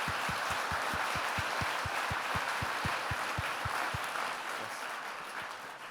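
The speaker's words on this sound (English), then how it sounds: "I wanted you all to applaud the speakers again who made this session such a success" A conference audience at a scientific plenary session in Interlaken applauds the speakers. The broad, sustained clapping includes a steady, prominent beat from one nearby clapper, then slowly tapers off toward the end.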